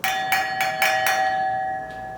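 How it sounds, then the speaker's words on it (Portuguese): A crystal wine glass is tapped about four times in a steady rhythm, each strike leaving a clear, bell-like tone that keeps ringing and slowly fades, close and alone. "O cristal ele tem um som que fica ecoando como se fosse um sino"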